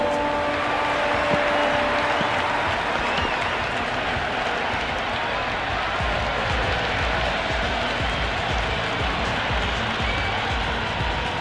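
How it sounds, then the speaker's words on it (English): Cricket crowd at an IPL match between SRH and RCB roaring and applauding after a hat-trick wicket, a dense, loud, sustained wash of cheering and clapping throughout. "That's a hat-trick and the crowd are going wild."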